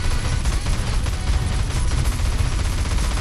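Continuous rapid gunfire from a carbine in GTA San Andreas, a dense, unbroken rattle of shots with heavy low-end rumble that stays loud and steady throughout, with no talk over it.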